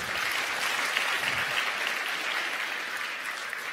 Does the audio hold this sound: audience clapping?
yes